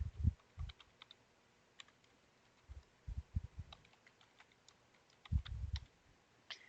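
Keystrokes on a computer keyboard as a password is entered, irregular bursts of clicking and tapping with short pauses between, close and fairly quiet, with no talking.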